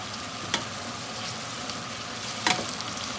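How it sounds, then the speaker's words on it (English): Browned meatballs sizzle in a pot of sautéed vegetables and oil for Italian wedding soup, a constant close frying hiss broken by two sharp stirring clicks. "what we're going to do is let them saute a little bit in the vegetables here"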